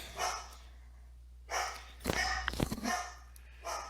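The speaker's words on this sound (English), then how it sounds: "Dog's barking at the UPS guy." A dog barks at a delivery driver, a few faint, distant barks in short bursts separated by quiet gaps, heard from indoors.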